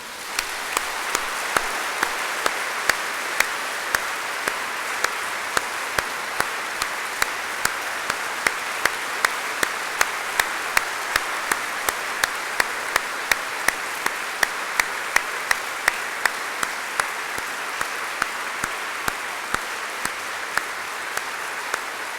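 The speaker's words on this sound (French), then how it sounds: "je voudrais qu'on l'applaudisse encore plus fort" A congregation applauds at an opening Mass of the Dakar archdiocese, producing sustained, dense clapping from a large crowd in a big space that holds steady for over twenty seconds with no voices above it.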